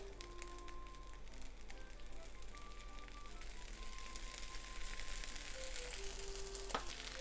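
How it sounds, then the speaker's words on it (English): Shrimp yakisoba stir-fried noodles sizzle and crackle steadily in hot vegetable oil, a close, continuous frying hiss with faint scraping of a utensil and a brief clatter near the end. "And fry the other side too."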